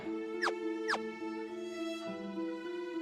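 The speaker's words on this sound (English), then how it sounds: "for the world map music, which sounds like this" Final Fantasy II world map music plays as sustained synthesized tones in a slow melodic line, with two quick upward-sweeping squeaks early on, moderately quiet.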